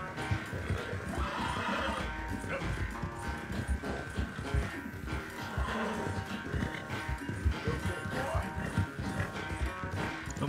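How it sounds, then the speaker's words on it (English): Galloping hooves pound continuously in a western video game horse race, close and busy, with a horse's neigh rising over the rapid hoofbeats. "O cavalo vai me derrubar."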